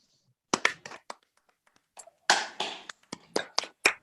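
Members of an online reading circle clap over their open microphones: a scattered series of sharp, uneven claps and taps, some in quick pairs, separated by short gaps of near silence.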